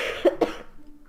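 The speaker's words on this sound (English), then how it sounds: "Cough." A person gives two quick, close coughs in a row, sharp and throaty, followed by a short fading tail.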